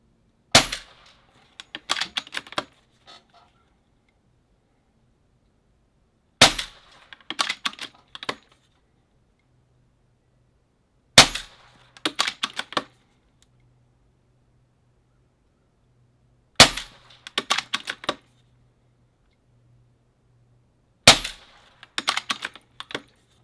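A pellet gun fires at a target: five sharp, close cracks spaced roughly five seconds apart, each followed by a quick cluster of smaller mechanical clicks, with near silence between.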